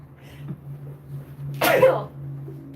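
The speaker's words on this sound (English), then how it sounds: "I'm sorry, I sneeze a lot." A single sharp sneeze bursts out close to the microphone, loud and brief, over a faint steady electrical hum during a live pet-treat shopping show.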